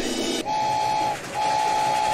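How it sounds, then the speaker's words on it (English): A train in the Poppy Playtime video game sounds two long steady whistle blasts over a constant rumble of rolling rail noise, loud and close, with no voices. "it's just a train."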